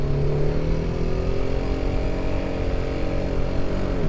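A motorcycle engine accelerates past traffic with a steady, loud mid-pitched drone and slowly rising tone, continuous and close.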